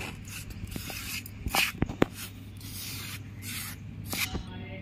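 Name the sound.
mixing bread dough ingredients with yeast and milk by hand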